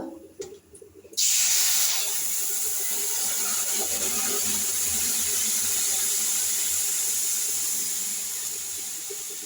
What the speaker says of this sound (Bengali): দেখো এবার জল দিয়ে দেবো পরিমাণ মতো।